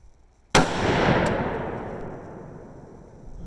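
A single loud rifle shot from a Savage 11 Hog Hunter chambered in .338 Federal, a sharp close crack followed by a long rolling echo that fades over several seconds outdoors.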